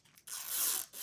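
Protective plastic film rips off a new NZXT H6 Flow PC case in a brief, close, crackling peel, with a short pause before it finishes.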